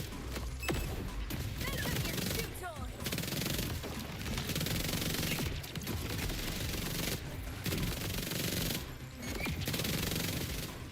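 A gun fires in long continuous bursts during Borderlands 4 combat. The chatter is dense and loud, broken by short pauses, and sits in a busy, cluttered game mix.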